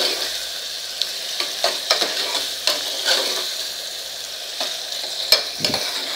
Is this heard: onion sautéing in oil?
yes